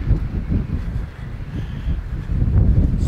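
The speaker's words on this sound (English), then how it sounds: "This wind is terrible." Strong wind buffets the microphone outdoors beside a grow room, producing a loud, low rumbling roar with gusty swells and no speech.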